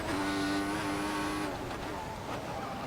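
Sustained high tyre squeal from a locked-up Formula 1 car in the F1 2014 racing game at the Belgian Grand Prix, loud over the whining engine, cutting off about halfway as the engine drone carries on.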